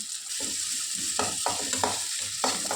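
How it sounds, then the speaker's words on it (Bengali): Chopped onion, chilli and ginger sizzle in hot oil while a spatula scrapes and stirs the pan in short rhythmic strokes, close and moderately loud with no talking. "এবার আমি পেঁয়াজ কুচিটা দিয়ে দেবো তেলে লঙ্কা কুচিটা দিয়ে দেবো"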